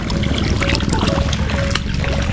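A tap runs continuously, giving a steady trickling flow of water close by, with a person's voice partly over it.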